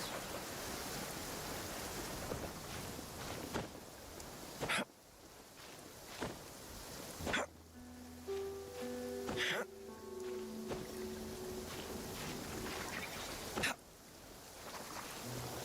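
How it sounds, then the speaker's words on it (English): Rain falling in the video game Genshin Impact, a steady soft hiss with game sound effects and tones layered over it, no talk. "it's raining, which means this is going to be very annoying"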